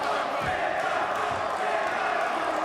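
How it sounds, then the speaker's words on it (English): A roaring arena crowd in Rome cheers on its fighter at an MMA event, a dense, steady wall of noise with no breaks. "The crowd here in Rome getting behind their boy."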